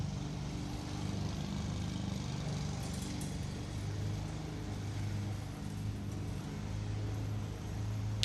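A robotic lawn mower working through long, overgrown grass, giving a steady low motor hum with a broad wash of cutting noise that holds evenly throughout, with no talking.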